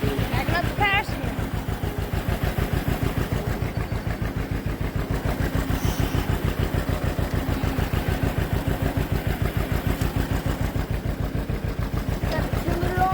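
A tractor engine chugs steadily with a regular, pulsing idle, close and loud throughout as it backs out of a shed, the beat holding even from start to finish.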